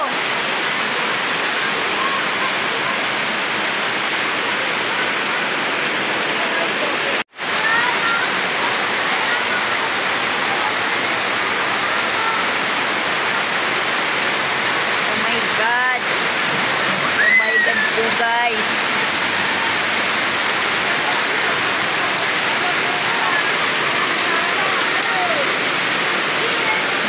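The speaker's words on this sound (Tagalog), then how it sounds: "Mas lalong lumakas po yung ulan" A heavy, sudden downpour of rain pours steadily as a dense, constant hiss, with people exclaiming and talking over it and a brief sharp knock partway through.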